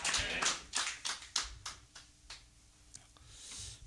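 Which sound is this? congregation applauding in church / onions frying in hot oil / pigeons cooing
congregation applauding in church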